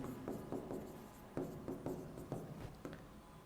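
A pen writes a chemistry answer by hand on paper, making soft, close scratching strokes in short, uneven bursts separated by brief pauses, with no voices.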